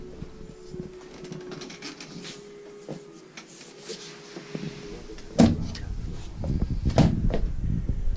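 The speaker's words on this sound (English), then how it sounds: "So I'm going to open my bed now." A fold-out bed is opened, with quiet creaks and rustling at first, then loud clunks and metallic rattling of the frame as it unfolds, close by.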